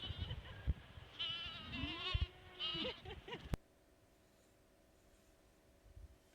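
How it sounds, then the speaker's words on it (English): Goats on a farm bleat several times in close succession, loud and near, with wavering, quavering cries over the first few seconds before the sound drops to a faint, steady background hum. "I want to run with the goats."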